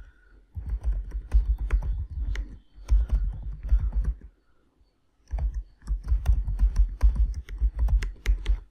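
Close computer keyboard typing comes in two bursts of rapid, uneven key clicks, with a short pause between them.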